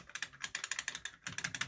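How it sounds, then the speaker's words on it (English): Flat micro-switch buttons on an arcade control panel are pressed in quick succession. They make a steady run of crisp, close clicks, sharp and evenly spaced, with a brief pause partway through and no talking. "It's got the nice micro switches in there."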